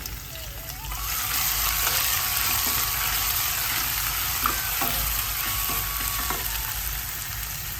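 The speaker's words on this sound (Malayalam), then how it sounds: "ഇതൊന്ന് ഇളക്കാം" Crushed black pepper, garlic paste and shallots fry in a pan for a Kerala-style rasam, giving a steady, close sizzle with soft stirring scrapes and a few light clinks throughout.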